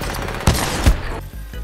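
Pistol fire in the first-person shooter Titanfall 2 during a one-on-one match, two punchy close shots amid continuous dense game noise.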